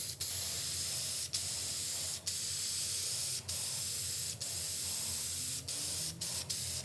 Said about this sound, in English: let's give this bumper a nice spray